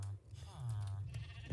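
Sheep in the Minecraft video game bleat in a single drawn-out, wavering call near the mic, opening and closing with faint game noise.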